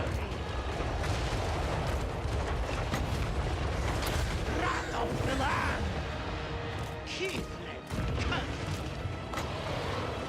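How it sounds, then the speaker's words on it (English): Bombs rain down in a Total War: Warhammer battle with Mother Ostankya's Kislev army, dense rumbling blasts and crashing impacts rolling on steadily for ten seconds while a voice talks over the din. "Alright, let's start dropping some bombs"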